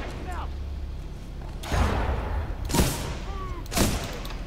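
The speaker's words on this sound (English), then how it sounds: "Dang, they threw a grenade at me?" Three heavy broadband blasts land about a second apart in a Titanfall 2 firefight, each a loud boom with a short decaying tail, over steady low rumble and faint whistling tones.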